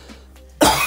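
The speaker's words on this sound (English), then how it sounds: "This video is gonna suck, all this damn coughing" A single harsh cough bursts out abruptly near the end of a short, quiet stretch, close and loud.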